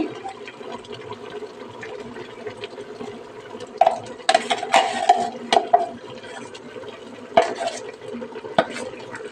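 Ground sambar masala paste, made with tomato and cinnamon, goes into a pot for a village mutton sambar and fries with a low sizzle, broken by wet scraping, stirring and clinks of a metal spoon against the pot. No one talks.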